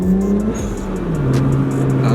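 A Volkswagen Golf Mk7 R fitted with modified lower valve induction and intake induction revs loudly and close, its engine note dipping then climbing again over about two seconds, with no talk.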